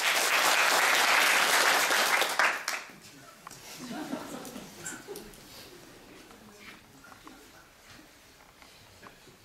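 Audience at a haiku slam bursts into loud applause that stops abruptly after about two and a half seconds, followed by scattered faint claps and low murmuring voices.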